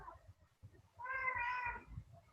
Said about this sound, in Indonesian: ini kucing minta keluar pula dia